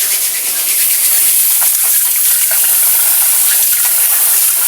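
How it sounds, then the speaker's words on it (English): Warm water running from a tap while hands are washed with dishwashing liquid, a steady close hissing gush that fills the whole clip with no talk. "So I'm going to wash my hands with some warm water."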